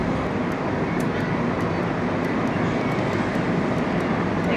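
Inside a moving air-conditioned train in Malaysia, a steady, loud rumble and roar of travel fills the carriage, constant throughout with faint rhythmic clicks overhead and no voices.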